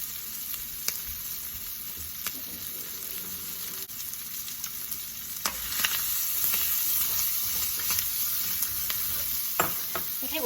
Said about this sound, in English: to my hot cast iron skillet, let's add our bacon and sausage. And let's get that to cooking.